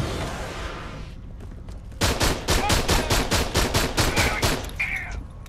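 Rapid automatic gunfire in the sci-fi shooter Aliens: Colonial Marines on Xbox 360, a loud steady burst of about a dozen evenly spaced shots after a quieter rumbling lead-in, no speech.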